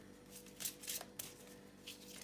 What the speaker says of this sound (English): Now I'm shuffling the Dreams of Gaia Tarot.